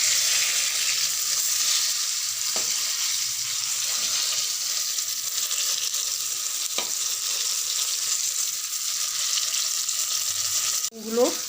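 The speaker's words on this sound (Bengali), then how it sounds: "বেগুনগুলো এইভাবে লাল করে সবগুলো ভেজে নিচ্ছি।" Eggplant pieces frying in hot oil make a steady, loud, close sizzle for the whole stretch, with a brief clatter near the end.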